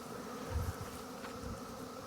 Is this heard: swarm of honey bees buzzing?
yes